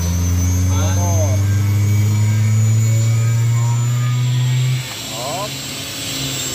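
An 11 kW ZMVF 11 air compressor motor hums loudly and steadily, then cuts off abruptly near the end, leaving quieter background; a voice speaks briefly over it.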